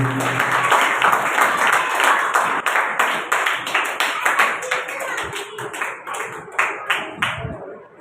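A gathered audience claps in brisk, uneven bursts, loud at first and thinning into scattered slaps toward the end, with a faint voice underneath.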